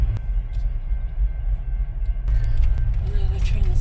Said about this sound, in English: Another train is coming.